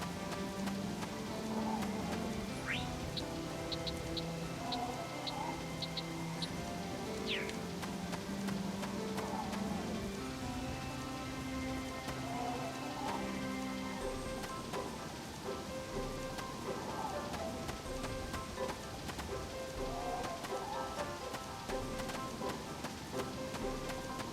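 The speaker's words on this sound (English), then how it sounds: "It's always raining in the summer." Steady rain in the video game Harvest Moon: Animal Parade patters and hisses throughout, with faint game music tones and some chirps layered over the constant downpour.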